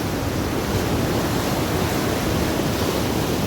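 Floodwater surging fast through a channel during Storm Henk, a constant loud broadband roar and rush with no break, close by and with no voices.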